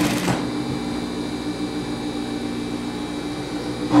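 Steady, close mechanical hum of a sewing machine running continuously while stitching a double-faced coat, with no voices.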